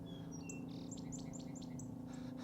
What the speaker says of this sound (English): The song Sparrow sounds like he's in my pocket practically.